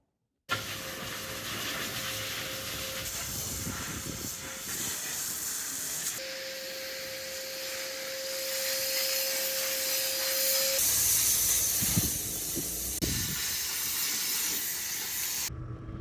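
High-pressure underbody wash and pretreatment spray hitting an overland truck, a steady hissing rush of water that keeps going for a long stretch and swells louder partway through, close up with no voices.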